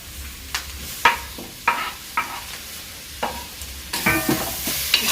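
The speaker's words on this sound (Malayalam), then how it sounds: "ഉള്ളി വഴണ്ടി വന്നിട്ടുണ്ട്. അപ്പം നമുക്ക് 2 തക്കാളി ഇതിലോട്ട് ചേർത്ത് കൊടുക്കാം" Tomatoes stirred into onions frying for chicken curry: a spoon scrapes and knocks against the pan in irregular close strokes over a soft sizzle that grows brighter toward the end.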